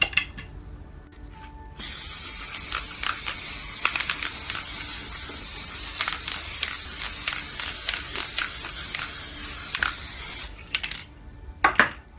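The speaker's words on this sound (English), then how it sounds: "I'm going to use some Elmer's spray adhesive and a brayer" A can of Elmer's spray adhesive hisses in a long continuous spray for several seconds, framed by brief clicks and handling noises before and after.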